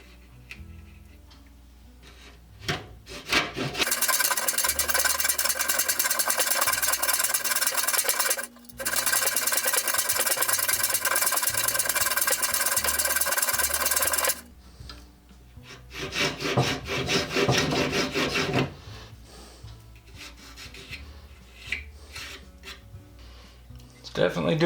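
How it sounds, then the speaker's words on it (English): A hand tool shaves wood off a pallet board while setting up rebate cuts, giving long loud rasping strokes that run several seconds, pause, and resume in a shorter burst, with quieter scraping and handling sounds between. "Definitely doing a good job shaving off wood."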